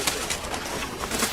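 Wood pigeons cooing at a campsite, soft low calls repeating over a steady hiss of outdoor background noise, fairly faint and with no talking.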